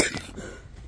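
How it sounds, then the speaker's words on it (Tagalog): A single short cough from a person outdoors, close and fairly soft, fading into quiet background noise. "May ubo ako."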